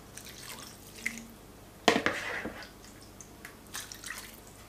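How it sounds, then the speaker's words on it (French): Liquid ladled over shrimp paella cooking in a wok, a soft splash near the middle followed by faint drips and trickles, with quiet kitchen background and no talk. "Je vais encore arroser d'une louche ou deux"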